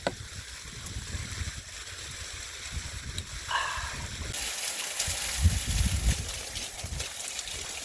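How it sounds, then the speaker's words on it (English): Outdoor waterfall rushing steadily behind two people cooking chilli cheese nacho burgers, a continuous broadband wash of falling water with brief voices and small clinks over it. "Waterfall behind you. Waterfall behind me."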